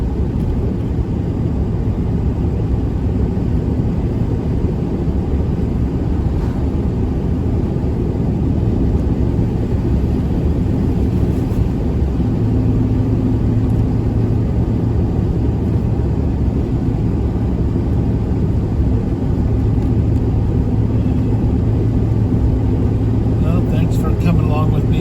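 A car driving along a foggy road, its engine and tyre noise forming a steady low rumble from inside the cabin, continuous and even throughout.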